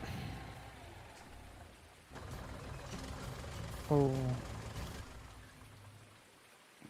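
Steady rain in Farming Simulator 19, a soft continuous hiss of falling water with a brief louder swell midway, under faint talking.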